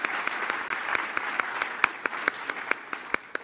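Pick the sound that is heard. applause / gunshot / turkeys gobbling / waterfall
applause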